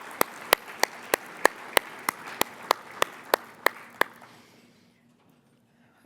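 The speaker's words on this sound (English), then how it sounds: "let's just give another round of applause for our winners" A small luncheon audience claps for award winners at a volunteer awards event, about a dozen sharp, evenly spaced claps that stop after four seconds, leaving near silence.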